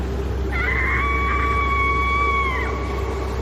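A woman in a horror story lets out one long, high, wavering scream that holds for about two seconds over a steady low hum.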